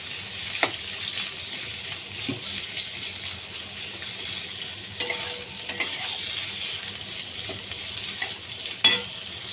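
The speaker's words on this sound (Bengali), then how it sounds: "পেঁয়াজগুলো একটু লাল লাল করে, একটু অল্প অল্প লাল লাল করে ভাজতে হবে" Onions frying in a pan, a quiet, continuous sizzle with occasional scrapes and clicks of stirring scattered throughout.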